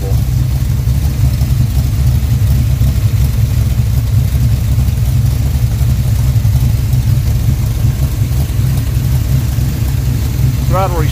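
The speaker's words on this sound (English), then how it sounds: "Throttle response isn't quite as snappy as what Jeff's is, but it's not bad." A 406 cubic inch pump-gas street engine runs steadily in a low, continuous rumble, held close and loud throughout with little change in pitch, and a brief higher whine near the end.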